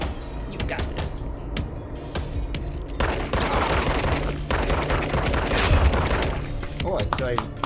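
Rapid gunfire and grenade blasts from combat in the video game Control crackle in dense, loud bursts, growing heavier and more continuous through the second half.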